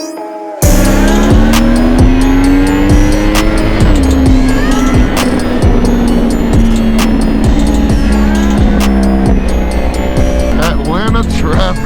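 A Suzuki GSX-R750 with only sprocket changes races a Yamaha R1, a loud close engine note rising and falling through gear changes, with a sharp cut at the start and another bike's whine near the end.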